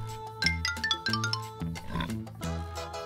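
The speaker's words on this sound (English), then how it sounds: "Pig." A short pig oink sounds over a bouncy musical backing of chiming notes, the grunt brief and set amid the melody.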